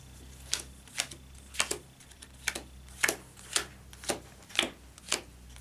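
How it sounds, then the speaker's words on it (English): A deck of Dominion game cards being shuffled by hand, heard as about ten quick, evenly spaced riffling bursts close by against a low steady hum. "I'm going to shuffle what I have in my deck."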